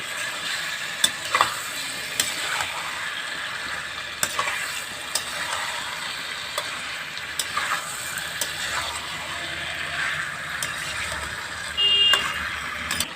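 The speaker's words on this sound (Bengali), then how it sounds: "সিদ্ধ করা কচুটা দিয়ে এবার তো কষিয়ে নেবে" Boiled ghot kochu taro sautéed with spices in a pan alongside potato for a Bengali dalna, a continuous close sizzle broken by repeated scraping and clacking of a spatula stirring, no voices.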